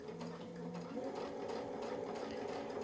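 Sewing machine running steadily while stitching fabric along a quilting ruler template for a mini brick fill, a continuous close mechanical whir with no break.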